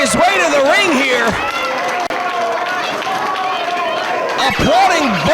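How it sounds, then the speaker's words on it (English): A wrestling crowd claps and cheers for two athletes at a 2007 pro wrestling event, the applause roaring under loud, shifting shouts and a sharp thud partway through. "Applauding both of these athletes."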